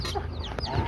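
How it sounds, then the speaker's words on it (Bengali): Chickens and young chicks cluck and cheep in a brief, close burst of soft calls. "আমার মুরগির বাচ্চাগুলা অনেক সুন্দর।"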